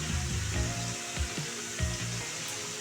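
Tomato puree sautéing in a pan for a chicken leg masala, with a steady broad sizzle and a few duller stirring knocks against the pan, close and fairly quiet throughout.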